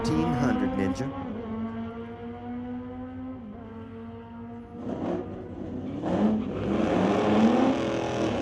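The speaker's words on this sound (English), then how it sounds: "Chris Lake, 2016 Kawasaki 1400 Ninja" A 2016 Kawasaki 1400 Ninja at a street-legal drag race at Mission Raceway Park, its engine droning steadily and fairly far off, then rising in pitch as it accelerates hard toward the end.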